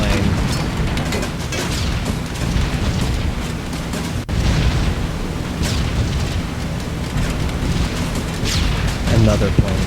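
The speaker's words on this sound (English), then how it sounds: "I heard what sounded like a pretty big explosion." Loud, dense rumbling roar of a big explosion in the WWII bomber game B-17: The Mighty 8th, sustained and boomy throughout with a brief dip midway, mixed with continuous engine drone.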